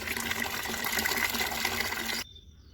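Water running steadily into a container, a continuous loud gushing fill that stops abruptly near the end, leaving a faint quiet tail.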